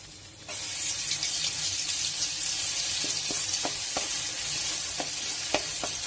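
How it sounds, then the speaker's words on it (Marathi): A garlic, ginger and coriander paste hitting a ladleful of hot oil, bursting into a loud continuous sizzle that starts abruptly and holds steady, with a few sharp spatter pops. "फोडणीसाठी मी एक पळी तेल ओतले आहे लसूण अद्रक आणि कोथिंबिरीची पेस्ट टाकली आहे"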